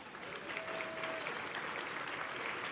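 Audience applause at a medical school Match Day, a dense, even wash of clapping from a crowd sustained throughout, fairly quiet and distant.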